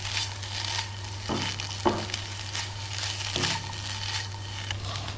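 A spoon mixes thick white sauce for a simple pasta dish, making a soft continuous wet stirring and squelching sound with a few scrapes and small knocks against the pan, and no one speaking.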